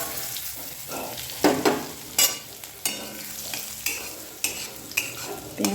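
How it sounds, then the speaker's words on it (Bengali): Black cumin seeds and garlic stirred and fried in a pan: a steady sizzle under repeated scraping strokes of a spoon, close, with sharp clacks roughly every half second to second. "কালো জিরেটা একটু নাড়াচাড়া করে নিই, তারপর রসুনটা দিয়ে দেব"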